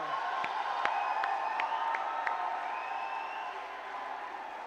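Audience applause and cheering at an all-India Hindi poetry gathering (kavi sammelan) in Bahal, a steady crowd wash with a few sharper claps and whoops, moderately loud and continuous throughout.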